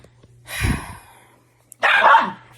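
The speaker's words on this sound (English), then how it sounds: "There's always a dog or two in the background cutting up." A dog barks in the background at home, two short bursts separated by a pause, the second louder and sharper, with no talk over them.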